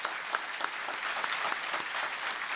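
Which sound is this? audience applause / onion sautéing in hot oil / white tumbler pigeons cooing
audience applause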